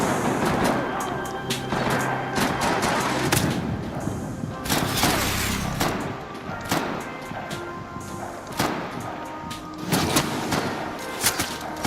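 MP5 submachine gun fire in Max Payne 3, repeated rapid bursts and single cracks spread across a noisy action scene, with loud impacts and crashes between volleys.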